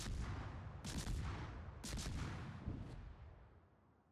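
Naval guns fire in World of Warships from the USS Johnston, a Tier 9 premium ship: three booming, distant-sounding salvos about a second apart, each trailing into a rolling rumble that slowly fades.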